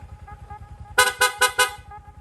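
A newly installed loud horn on a Yamaha Sniper 155 motorcycle honks four times in quick succession over the low putter of the idling engine.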